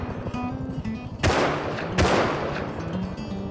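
Two loud, sharp gunshots in Rust about a second apart, standing out clearly over a low background of game noise.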